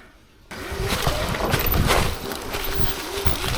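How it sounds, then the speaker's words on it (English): An electric Surron Ultra Bee motorbike motor makes an odd noise, a steady broadband whirring and rumbling that starts abruptly and holds loud and close for a few seconds with slight surges, no talking. "Sounds like the motor is making a funny noise."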